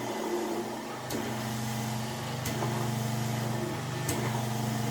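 A Seaflo water pump's electric motor runs steadily as a vacuum aspirator pump, a continuous mid-level hum with a faint drop in pitch under load and a few brief sharp clicks, with no talk.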